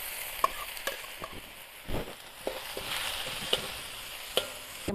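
Washed rice being stirred and turned in a hot pan for tomato rice, soft scraping strokes and light clicks over a low, steady sizzle, close by with no talk.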